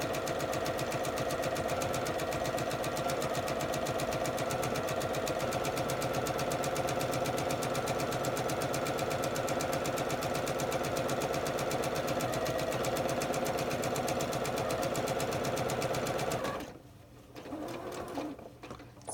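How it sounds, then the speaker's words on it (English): A sewing machine stitches around a track pants pocket with a 3/8 seam allowance, running at a fast, steady rhythmic clatter for about sixteen seconds before stopping abruptly, leaving a brief quieter tail. "You're just sewing around your pocket for this."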